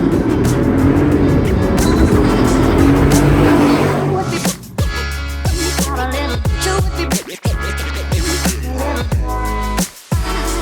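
A Jeep Gladiator with a 426 Hemi engine drives hard, its loud V8 revving up in rising sweeps that break at each gear change before climbing again, heard close from inside the vehicle.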